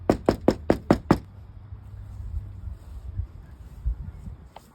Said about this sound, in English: knocking this door right here